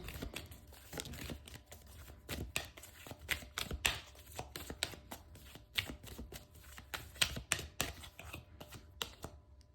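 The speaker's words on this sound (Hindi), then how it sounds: "जब तक मैं कार्ड शफल करती हूँ" Tarot cards are shuffled by hand in quick repeated riffles and slaps, a close, crisp run of papery bursts with short gaps, no talking.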